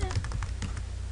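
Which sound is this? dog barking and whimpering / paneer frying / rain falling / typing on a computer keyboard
typing on a computer keyboard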